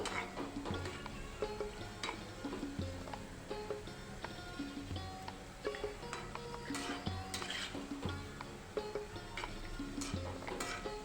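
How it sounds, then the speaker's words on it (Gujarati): Gulab jamun turned gently in hot oil, a soft continuous sizzle with small scraping and clinking taps of a spoon against the pan, quiet and steady throughout. "પછી આવી રીતના આપણે તેને થોડા થોડા ફેરવતા જઈશું અને બધી બાજુ તળી લઈશું."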